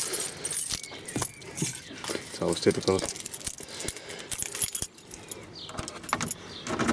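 Keys jangling and clinking in bursts, close by, with a voice briefly speaking over the metallic rattle, beside a VW T25 van with a swapped-in TDI diesel engine.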